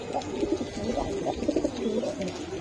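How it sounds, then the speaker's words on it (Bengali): An army-breed pigeon coos in a series of low, throaty, rolling calls heard up close at moderate volume, with a steady background hum. "এটা আর্মি জাতের কবুতর।"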